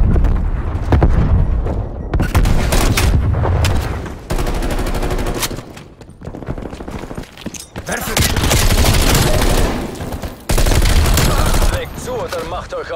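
Heavy bursts of automatic gunfire and explosions during a Call of Duty Black Ops Cold War multiplayer match after a grenade is thrown, loud and close in long blocks broken by short pauses, with a player speaking over the action.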